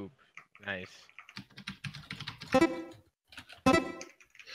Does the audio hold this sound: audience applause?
no